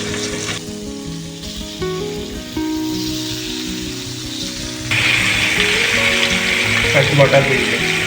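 Paneer cubes fry in a pan of oil for a vegetable and paneer dish, giving a steady sizzle that swells noticeably louder and brighter partway through, with faint background sounds underneath.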